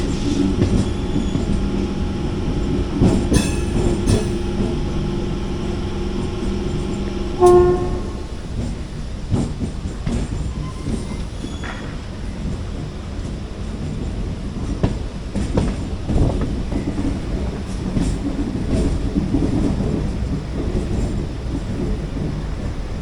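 MEMU train running into Shoranur Junction on the Nilambur–Shoranur route, recorded aboard as a loud, steady rumble of wheels on track with repeated rhythmic clatter over rail joints and a brief horn blast early on.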